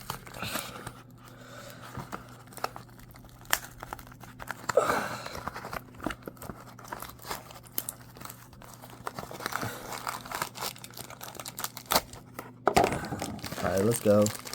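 Cardboard packaging of a One Piece WCF figure box is ripped open up close in irregular crinkling, crackling and tearing bursts, with a few louder rips, while a low steady hum runs underneath.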